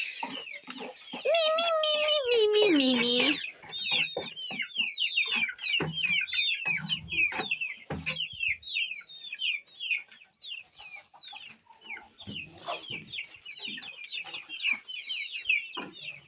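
A rooster crows loudly at first, then a flock of chickens and chicks cluck and chirp continuously nearby with scattered clatter and occasional voices.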